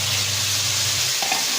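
Tomatoes stirred and sautéed in a pan with softened onions and salt for Tamil-style tomato thokku, a steady close sizzle with a scrape of stirring near the end, no talk.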